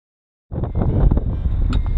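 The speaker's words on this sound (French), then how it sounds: "Il y a tellement de vent" Heavy wind buffets the microphone in a sustained low roar after a short silence, with rustling and flapping throughout.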